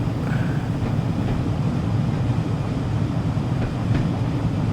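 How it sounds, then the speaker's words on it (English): An intercity train pulls away from a UK railway station with a continuous heavy, low rumble and faint rail squeals, steady and close throughout. "intercity train that is just leaving here"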